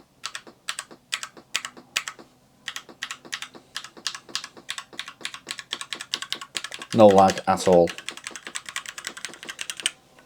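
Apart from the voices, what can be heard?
typing on a mechanical USB keyboard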